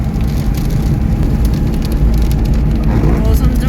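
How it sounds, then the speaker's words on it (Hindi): Heavy rain pours down during a road trip with a broken-down vehicle, a loud dense hiss with crackling patter of drops that stays close and constant throughout. "बारिश तेज हो रही है"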